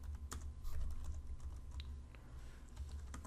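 Close, quiet clicking of computer keyboard keys during coding, an irregular run of soft taps over a low steady hum, with no one speaking.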